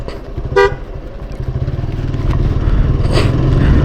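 A short, sharp horn honk rings out over a rumbling TVS Apache RTR motorcycle engine that grows louder and closer.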